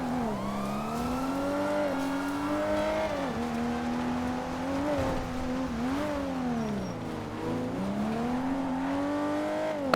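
A badly damaged car in a video game chase roars steadily up close, its engine pitch sweeping up and down in rising and falling revs for the whole stretch, loud and continuous with no talk over it.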